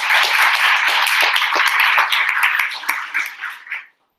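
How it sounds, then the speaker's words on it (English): Audience applause at a data science capstone showcase: dense, steady clapping from a crowd that holds strong for about three seconds, then thins into scattered claps and fades out. "I'm going to give you a huge round of applause"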